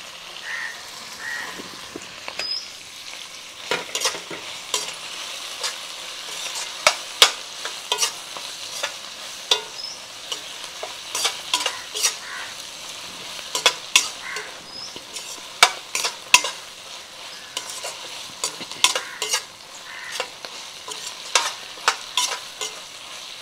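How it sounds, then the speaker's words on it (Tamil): Tomatoes and green chillies stir-fry in a pan with a little salt for a fish dish, a steady soft sizzle broken by frequent sharp scrapes and clicks of a spoon against the pan, close and without talk. "இப்போ தான் தக்காளி நல்லா வதங்கும்."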